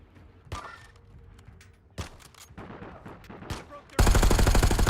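Video game gunfire in a battle royale match: sparse single shots and thumps, then a sudden loud sustained burst of rapid automatic fire at the end, close and dominant.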